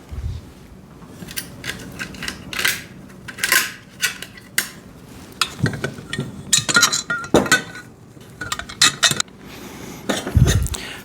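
Metal bolts are fitted through the frame holes of a foldable steel welding table, giving scattered sharp clinks, clanks and scrapes of metal parts knocking together at close range, irregular and fairly loud.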